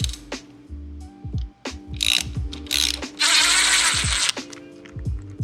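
Hand ratchet loosening a bolt on a motorcycle bracket of a 2022 Yamaha MT-07 during a crash cage install, rapid close clicking strokes in repeated bursts with a longer buzzing spin near the end, no talking.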